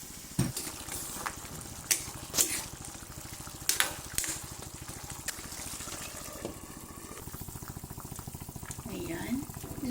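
Water poured into a pot of vegetables, squash among them, cooking on the stove, giving a bubbling, sizzling wash with a few sharp clatters near the start and steady simmering throughout.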